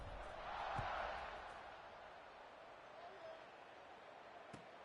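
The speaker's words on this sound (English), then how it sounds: "this crowd is buzzing after that last score." Football stadium crowd at a USC versus LSU game, a broad steady roar and buzz after a score, swelling briefly near the start before settling into a constant distant murmur with one sharp thump near the end.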